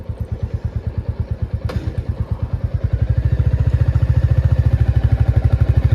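Motorcycle pulling away as the clutch is slowly eased out, its close engine thumping in a fast, even pulse that quickens and grows steadier and louder as the bike moves off, with no voices.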